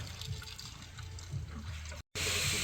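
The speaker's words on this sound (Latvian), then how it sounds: "Mums noteikti pēdējie pilieni" DSG6 gearbox oil from a 2014 Audi S3 running out in its final drops during an oil change, a close, steady liquid trickle and splash that stops briefly with a short gap before resuming.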